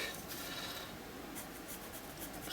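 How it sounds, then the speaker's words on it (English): Black Stabilo All pencil scratching and rubbing across an art journal paper page, a quiet continuous drawing sound close to the microphone. "Stabilo all pencil in black."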